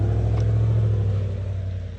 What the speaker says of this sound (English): Sorry, big old truck.